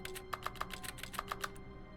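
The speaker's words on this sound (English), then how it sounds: "if I click my mouse, like, you can hear keyboard keys" Keyboard keys click in The Stanley Parable video game, a quick, uneven run of about nine crisp, close taps over a steady low hum.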